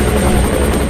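Helicopter in flight, a loud, steady rotor and engine roar filling the short stretch with no voices over it.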